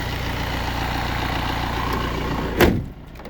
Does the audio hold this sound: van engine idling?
yes